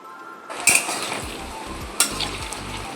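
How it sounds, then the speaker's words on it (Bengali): Potatoes frying in oil in a kadai, a steady broadband sizzle that starts at about half a second, with a few sharp metal clinks and stirring knocks over it. "আলুগুলো ভেজে নিচ্ছিলাম"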